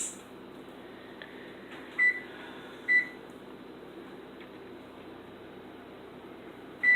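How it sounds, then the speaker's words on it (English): A kitchen oven timer beeps while a cheese souffle bakes, three short clear electronic beeps spaced seconds apart over a steady low fan hum, with no talk. "our timer is now going off"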